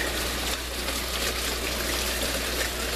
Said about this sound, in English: the water is hitting the top of the tubes on most of them